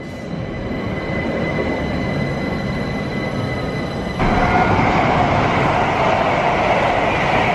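A passenger unit bound for Didcot Parkway rolls past at Ealing Broadway, a sustained loud rumble that swells partway through with some wheel squeal.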